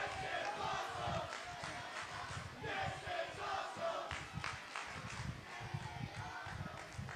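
Loud arena crowd at a professional wrestling match between AR Fox and AJ Styles, a dense roar of cheering and chanting with rhythmic pulses, sustained steadily throughout with no clear speech.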